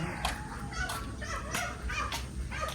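A dog whimpers and yelps faintly in short bursts against a noisy background.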